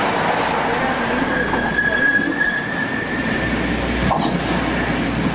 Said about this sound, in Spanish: El audio que escuchan es una pieza de audio de trenes modernos.